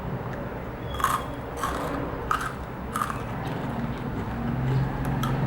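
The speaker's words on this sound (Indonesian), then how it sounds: "ini terbuat dari ketan yang dimasak, kemudian dikeringkan, baru digoreng" Crunchy rengginang, fried glutinous rice crackers, bitten in about five sharp crisp crunches roughly a second apart, close up over a steady low background hum.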